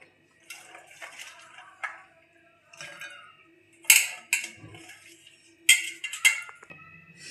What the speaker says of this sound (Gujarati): આપણે મરચાંને નાના નાના કટ કરી લેશું.